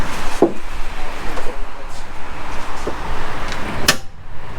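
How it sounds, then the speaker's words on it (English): The hood of a big-turbo IS300 is lowered with a couple of dull knocks and a sharper latch clack near the end, over quiet background noise around the car. "Put the hood down again."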